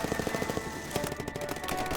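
Rapid machine gun fire in a World War II combat setting, a fast rattling burst of repeated shots with echoing crack, moderately loud with some distance.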